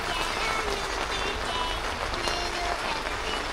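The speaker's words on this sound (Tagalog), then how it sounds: "Umulan nga at hindi naman malakas ang ulan. Ano lang, light rain lang." Light rain patters steadily on a campsite in the early morning, a soft, continuous hiss of drops with no voices.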